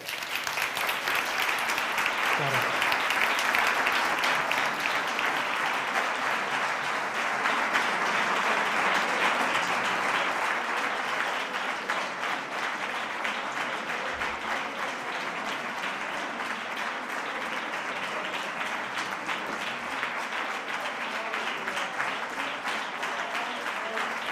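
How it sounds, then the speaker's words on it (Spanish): After a lecture on the artist Remedios Varo, an audience applauds in a hall: a sustained, even wash of clapping that carries on for over twenty seconds without a break, with no voices over it. "aplausos insuficientes, empiezo otra vez la conferencia."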